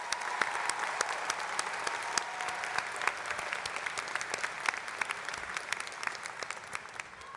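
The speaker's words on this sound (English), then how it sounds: "Please join me in giving these people a round of applause." A high school graduation audience claps steadily and loudly throughout, a dense crowd applause that neither builds nor fades, with no voices breaking through.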